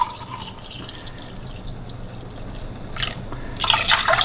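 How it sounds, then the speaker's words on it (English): Water poured into a mug to measure liquid for coconut rice, a quiet, low trickle that swells into brief splashing bursts near the end. "add water to it."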